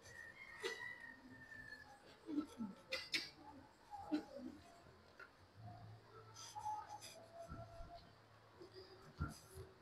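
Scrubbing and squeaky swipes of an eraser clearing writing from a board, coming in short irregular strokes at close range, with a faint voice speaking in the background.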